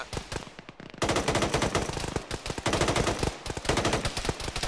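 Sustained automatic gunfire with tracers in a military video game: dense, rapid bursts of loud, close shots rattle almost continuously after a brief lighter opening, with no talking.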